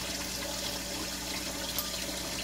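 Water runs into a pan for keto pancakes, a steady hissing pour close by that stays even throughout with no speech.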